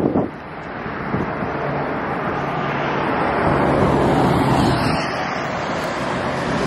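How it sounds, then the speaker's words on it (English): Wind blows outdoors on a cool, rainy day, a continuous rushing buffet against the microphone that swells in the middle, with a faint drone of passing traffic underneath. "it's kind of a windy, rainy day"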